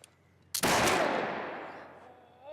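A single loud gunshot bursts out after a brief quiet moment, followed by a long fading echo that rings out over a couple of seconds, with no talking.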